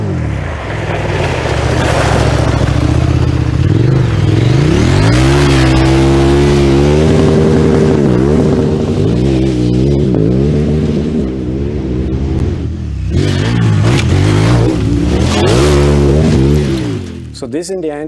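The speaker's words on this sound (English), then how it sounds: "what happens in manual mode if I hit the rev limiter?" A KTM motorcycle with an automated manual transmission, in manual mode, revs loudly and close into its rev limiter, the engine howl rising and stuttering repeatedly at the cutoff while a voice talks over it.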